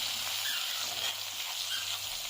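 Chopped onions sizzle steadily in hot oil left over from frying small fish, a continuous close crackling hiss with no talking.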